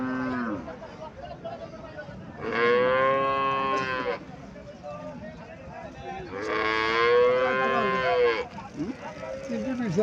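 A Haryana dairy cow at a livestock market moos twice in long, loud, close calls, with quieter background noise between them.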